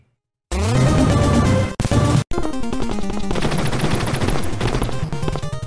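Enemy gunfire rattles in the Contra Reforged video game, a loud, dense and continuous burst of rapid shots with a brief cut near the start, then steady firing alongside other game sounds.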